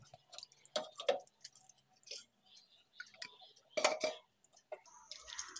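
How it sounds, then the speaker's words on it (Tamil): Boiled tomatoes are squeezed by hand to press out the pulp, making soft, close squelches and wet squishes in irregular bursts, with a few light clinks of a dish in a quiet room. "இதுலேருந்து சக்காயை மட்டும் நம்ம புளிஞ்சு எடுத்துக்கலாம்"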